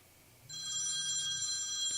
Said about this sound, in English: So it's got that phone ring and the buzzing sound that the phone makes when it's vibrating